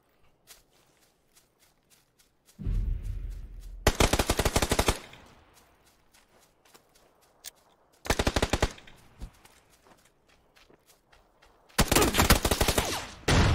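Bursts of automatic gunfire in the battle royale game PUBG during a solo tournament match, three loud rapid volleys separated by quieter stretches with faint footsteps and small clicks.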